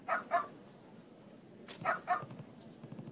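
A dog in the video game Ryu ga Gotoku Ishin barks in short pairs, two yaps, a pause, then more barks with a whiny edge, fairly faint and alone.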